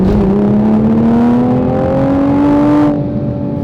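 Toyota Supra A90 fitted with a catless downpipe exhaust revving, a loud, close engine note rising smoothly in pitch for about three seconds before cutting off abruptly into a lower idle.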